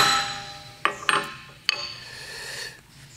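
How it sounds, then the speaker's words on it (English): A steel center punch is struck with a hammer into cast iron: three sharp metallic taps, two close together and then a third, each clear and close with a brief ring over a quiet workshop background. "what I like to do is just take the center punch and just punch it"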